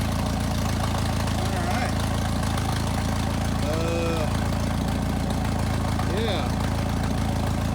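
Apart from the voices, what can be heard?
Jeep YJ engine idling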